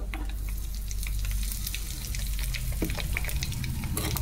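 Tempering of spices with asafoetida fries in hot oil, a close, steady crackling sizzle with sharp spits and pops throughout.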